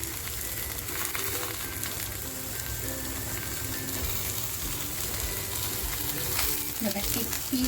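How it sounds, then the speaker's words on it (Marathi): A piece of surmai (kingfish) fries on a banana leaf with no oil, giving a steady close sizzle with soft crackles and occasional stirring, continuous throughout. "अजिबात तेल टाकलेलं नाही आहे आणि मस्त केळीच्या पानावर ते फ्राय करून घ्यायचं आहे"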